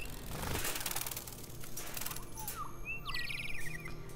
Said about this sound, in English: There are little android birds.